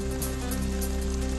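Rain falling during a monsoon shower in Jalgaon, heard as a steady, dense hiss of rain that runs without break under a constant low hum.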